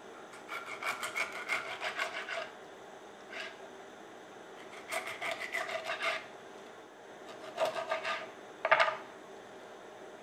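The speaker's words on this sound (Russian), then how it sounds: "Скумбрию теперь режем порционными кусочками." A knife cuts mackerel into portion pieces, giving quiet rasping, scraping strokes in four separate bursts, each a quick run of back-and-forth sawing, with a sharper tap near the end.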